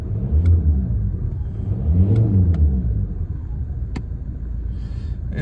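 A 277,000-mile VW Golf TDI MK5 diesel engine idling and revving, a close, steady low rumble that rises and falls in a couple of smooth revs with a few light clicks.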